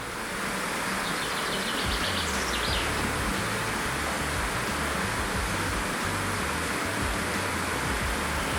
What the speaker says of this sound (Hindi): इतनी ऊंचाई पर हवा के बीच झरने की आवाज़ सुनने का एक अलग ही मज़ा है